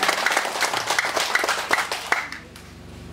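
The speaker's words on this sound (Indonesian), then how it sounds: "Tepuk tangan untuk rakyat dulu." Crowd applause at a political rally in Angar, a dense patter of many hands clapping at moderate distance that dies away after about two seconds into a quiet background hum.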